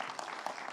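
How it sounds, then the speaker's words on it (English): Brief, faint burst of audience applause at the CoMotion GLOBAL 2025 mobility conference in Riyadh, a dense, steady patter of many hands with a few sharper claps standing out. "So a big round of applause for Mauricio and Dr."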